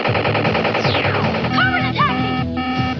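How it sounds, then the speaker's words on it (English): Electronic battlefield sound effects from a G.I. Joe General toy, a huge mobile battle fortress, with rapid machine-gun style bursts, a descending whistle and warbling chirps. The sounds are dense, loud and continuous, with layered tones throughout. "a huge mobile battle fortress with working lights and electronic battlefield sounds."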